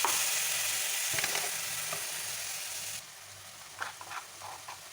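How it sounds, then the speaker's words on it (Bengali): Garlic, ginger and tomato paste hit hot oil in a pan with a strong, continuous close-up sizzle that suddenly quiets partway through, leaving a softer hiss with a few light stirring clinks. "এখানে রসুন আদা টমেটো করে রেখেছিলাম এটা দিয়ে দিলাম"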